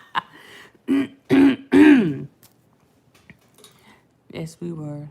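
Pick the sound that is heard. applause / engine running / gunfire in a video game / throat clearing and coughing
throat clearing and coughing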